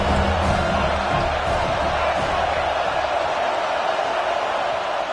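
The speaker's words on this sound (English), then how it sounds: "The Tide crowd rolling noise down on the Saban field on third down." Stadium crowd at an Alabama Crimson Tide football game on third down, a loud, steady roar of thousands of fans filling the whole stretch without a break.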